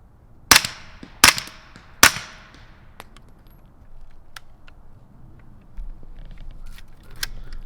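Three sharp, evenly spaced shots from a suppressed Bam BM15 PCC carbine fired at 100 yards, each a crisp crack with short decay, followed by quiet outdoor ambience with faint clicks.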